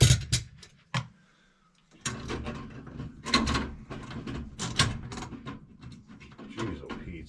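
The door panel comes off a Carrier 58ZAV096 furnace with close metallic clanks and rattles, a brief lull, then continued scraping and handling noises.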